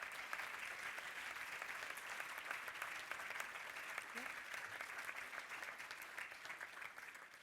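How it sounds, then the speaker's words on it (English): An audience claps steadily throughout for students at a school performance event, a sustained wash of applause from a large crowd, fairly distant and even in volume. "Could you please give those students a round of applause?"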